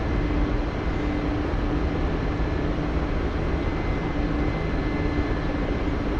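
Mi-8 helicopter in the DCS flight simulator, a steady loud rotor and turbine drone with no breaks, dense low rumble filling the whole stretch with no talking.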